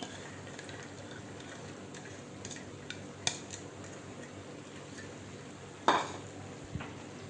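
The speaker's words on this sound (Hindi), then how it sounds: "इसको अच्छी तरह से हमने मिक्स कर लेना है" Spoon stirring keema mixed with dal in a pot, soft scraping and light clinks over a faint steady background, with one sharper metallic knock partway through.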